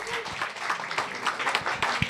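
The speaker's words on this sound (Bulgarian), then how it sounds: "аплодисменти" A short burst of applause from an audience, steady clapping throughout.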